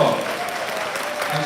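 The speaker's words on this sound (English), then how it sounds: "Give him a wonderful round of applause." An audience at a Kwanzaa show applauds, a dense wash of steady clapping at moderate level running throughout with a faint voice underneath.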